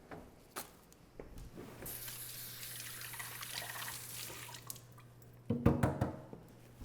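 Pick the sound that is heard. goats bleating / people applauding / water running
water running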